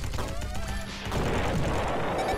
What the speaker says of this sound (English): the Deltarune explosion sound effect